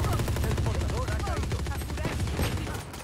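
Rapid gunfire from an online shooter video game crackles in dense, overlapping bursts with automatic-weapon fire throughout, loud and continuous, while players' voices mix in underneath.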